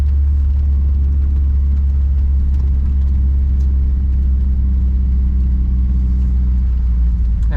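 Mazda Miata driving through snow: heavy, steady low engine and road rumble from inside the car, constant and loud for the whole stretch, no talking.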